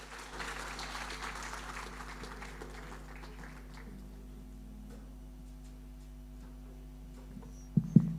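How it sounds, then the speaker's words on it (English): An audience at a Fiji Day celebration in Brisbane applauds after a Bhangra music performance, moderate clapping that fades over several seconds into a quiet hall with a low mains hum, followed by a couple of sharp knocks near the end. "Another big round of applause to Mithun from Sargam Music Academy."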